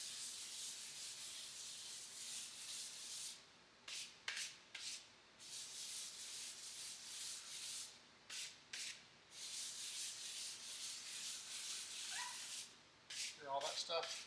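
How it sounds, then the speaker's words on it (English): Bursts of light abrasive rubbing as a painted car body is lightly sanded, steady strokes with brief pauses between them, close by and fairly quiet. "Should be plenty of time to do some light sanding on it."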